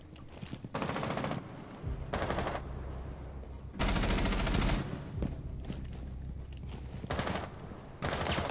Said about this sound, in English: I wish the gun sounds were a little bit more realistic